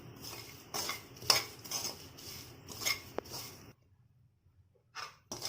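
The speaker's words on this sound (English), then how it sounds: "only 1 minute you stir it" Coconut chutney with chilli powder and salt stirred in a pan over the stove, giving close, irregular scraping and clinking of a spoon against metal in bursts, then a quiet pause before a couple of final knocks.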